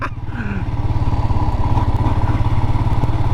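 Royal Enfield Himalayan motorcycle being ridden, its single-cylinder engine thumping in a fast, even, close pulse for the whole stretch, with wind noise and no clear speech.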